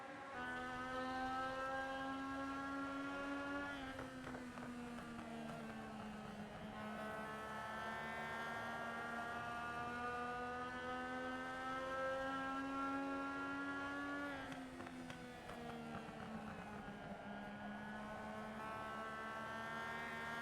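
Onboard engine of Kevin Lee's racing machine, the number 22 Twisted Wrench Racing car, heard from a gearbox camera, drones steadily and loudly close by. Its pitch climbs and shifts with each gear change, and no one speaks.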